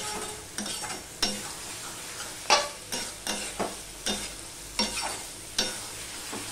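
Ash gourd curry being stirred in a pan, a run of regular, fairly loud scraping strokes about every half second over a faint background sizzle, with no voices.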